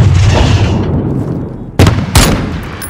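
A grenade goes off in Call of Duty Modern Warfare after a dense roar of battle noise, followed by two sharp loud blasts close together.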